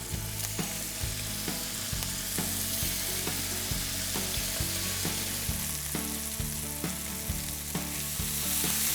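Food searing in hot olive oil in a pan, a steady close crackling sizzle running the whole time with scattered louder pops and occasional stirring knocks.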